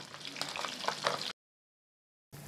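Marinated pabda fish sizzles in hot mustard oil, a close, steady crackling fry that cuts off abruptly into silence and returns briefly at the end.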